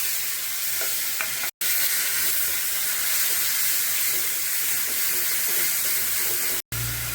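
Ginger, garlic, onion and tomato paste with cumin and dried chilli sizzles steadily in hot oil, a loud, continuous close frying hiss with faint stirring, broken by two brief silent gaps.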